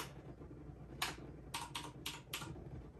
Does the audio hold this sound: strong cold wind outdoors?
no